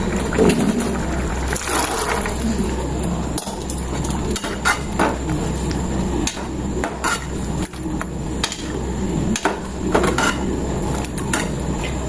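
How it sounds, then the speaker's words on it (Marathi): Green peas go into a pan of cooking vegetable curry, with repeated clinks and scrapes of a metal utensil against the pan over a constant sizzling hiss, loud and close throughout. "आता हे वाटाणे टाकायचं."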